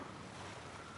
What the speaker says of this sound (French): Donc il faut que je plonge dans la rivière,